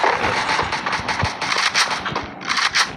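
Rapid bursts of popping shots from toy guns during a children's hide-and-seek shooting game, the crackling volleys coming in quick clusters with brief gaps, loud and close.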